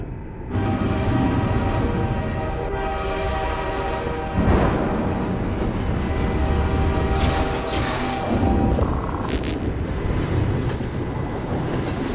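A train rumbles steadily past for a long, loud stretch in Half-Life 2: Episode One, with clattering rail noise and a sharp horn blast sounding partway through, and no voices.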